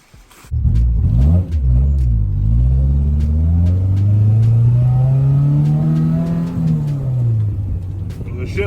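A 1993 Honda del Sol with a B18C1 engine revs loudly while driving, heard close from inside the car, with a dip at a gear shift and then a long climbing drone that eases off.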